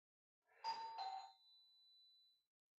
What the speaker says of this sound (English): Somebody's ringing the doorbell.